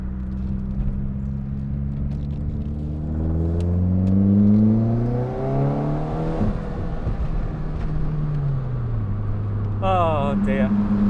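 A Nissan Pulsar GTi-R drives along with its engine note climbing and falling through the gears, a close rumbling drone under rising and dropping revs, with a short burst of other noise near the end.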